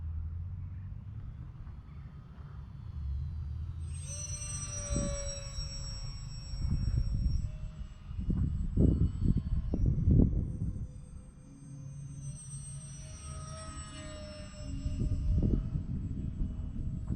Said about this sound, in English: Good looking little plane.